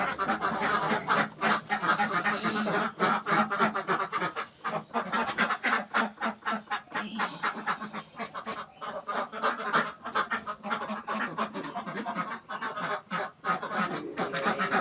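Khaki Campbell ducks on a small farm quack in a busy, overlapping chorus, with many short calls in quick succession, near and fairly loud throughout, without speech.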